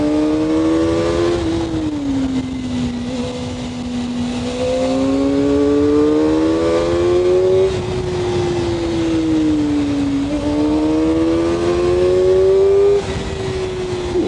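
A Kawasaki ZX-4R sport motorcycle engine revs loud and close, its pitch rising and falling in repeated sweeps with a sustained high-revving whine throughout, no talking.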